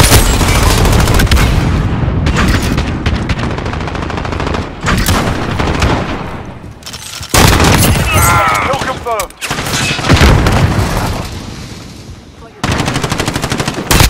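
Heavy automatic gunfire from Call of Duty: Modern Warfare, loud sustained bursts of rapid shots broken by brief pauses, with a few scattered booms and game sound effects around them.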